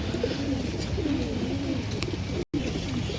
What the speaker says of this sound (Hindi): ये देखो भाई ये कबूतर आ गया